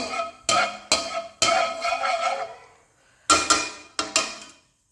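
A metal spoon scrapes and clanks against a cooking pot of heated oil while making khichuri, several sharp stirring strikes in two groups separated by a short pause, close and loud, no talking.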